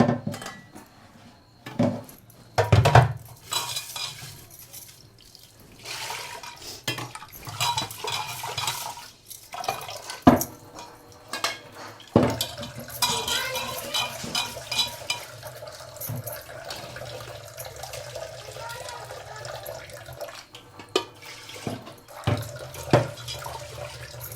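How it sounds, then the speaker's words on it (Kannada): Rice washed in a sink under running water: splashing and trickling from the tap with rattling clinks of a metal pot and grains being swirled by hand, irregular and close. "ಅಕ್ಕಿನ ತೊಳ್ಕೊಂಡು ಬರ್ತೀನಿ"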